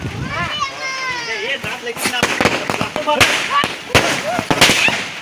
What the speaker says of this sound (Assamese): আমি এফালে ফটকা পেকেটে জ্বলাই দিওঁ